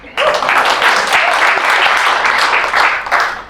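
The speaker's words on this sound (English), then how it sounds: "I think you should give them a bigger clap." Audience applause at an introductory speech by the ACA NSW President, a dense steady wash of many hands clapping that starts abruptly and holds at full strength for several seconds.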